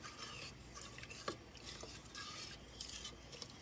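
Steady scraping and swishing of a spoon stirring a sticky molasses and sugar mixture in a pot, with a few soft clinks against the side, close and continuous throughout.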